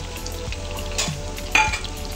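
Chicken cheese kabab batter fries in a pan with a soft, continuous sizzle, broken by a couple of brief clinks and scrapes up close.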